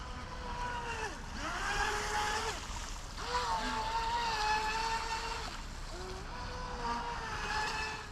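A WLTOYS WL916 RC boat runs on water, its high electric motor whine steady and fairly close, pitch dipping and rising repeatedly as it slows and speeds up through turns.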